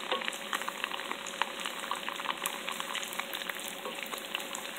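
Garlic and chili fry in hot oil, a dense, steady sizzle with fine crackling pops running throughout, close and continuous with no voices.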